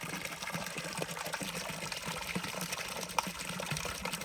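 Water gushes continuously as it is poured into a canal stocked with fish, a steady close rushing flow with a small splash near the end and no talk.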